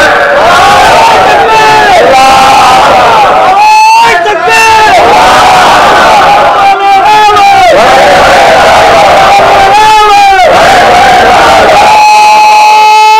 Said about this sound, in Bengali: এটা তাকবীর না?